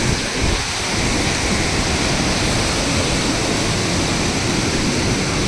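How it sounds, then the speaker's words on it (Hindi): Dudhsagar waterfall roars as a loud, steady wash of rushing, crashing water, dense and unbroken from start to finish, with no voices over it. "सो फाइनली हम पहुंच गए हैं दूध सागर वाटरफॉल।"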